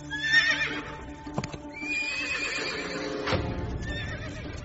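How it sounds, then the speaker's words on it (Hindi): Horses neigh and whinny loudly, rising shrill calls overlapping, while hooves clip-clop and thud close by in a film scene. "ये सारे घोड़े इस तरफ क्यों आ रहे हैं?"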